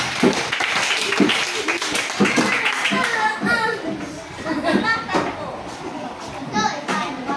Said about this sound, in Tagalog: Bigyan natin ng tatlong palakpak si Ate Alban.